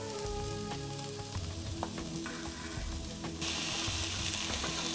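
Onion and tomato sizzle and fry in a pan, a steady crackling hiss with occasional stirring clinks, and the sizzle brightens and intensifies toward the end as the tomato goes in.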